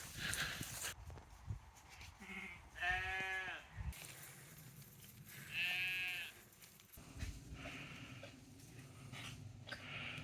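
Sheep bleat on an Exmoor footpath near an old mine engine house, several separate bleats near and farther off over outdoor wind noise and rustling.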